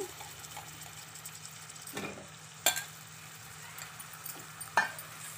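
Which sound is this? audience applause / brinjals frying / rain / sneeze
brinjals frying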